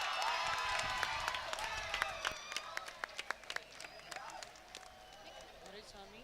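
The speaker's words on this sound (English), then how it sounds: "Guys, give a big round of applause." An outdoor crowd at a college engineering sports day applauds, with scattered sharp claps and shouts over a public-address voice, and the clapping thins into isolated hand claps as talk continues.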